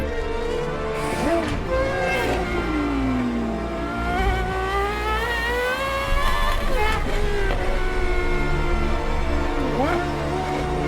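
A Gordon Murray Automotive T50 engine revs hard and close, its high-pitched wail climbing and falling through repeated throttle blips, with a rising fan whine behind it.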